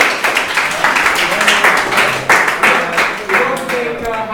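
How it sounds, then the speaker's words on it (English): An audience at a startup networking event claps in a steady round of applause, dense overlapping hand claps running loud and close throughout. "So I'll give a round of applause."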